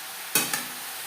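Bottle gourd with fish head being stirred in a pan over a high flame, with two quick scraping strokes over a steady hissing sizzle.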